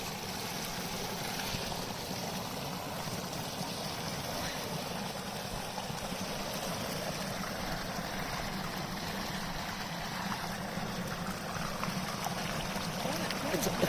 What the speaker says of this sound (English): There's a small waterfall here running off the thick roots of the tree where I get water